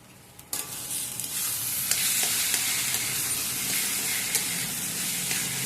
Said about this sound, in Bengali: ভাজতে কতক্ষণ সময় লাগে দেখছো, একভাবে শুধু নেড়েই যেতে হয়